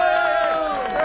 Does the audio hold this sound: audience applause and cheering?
yes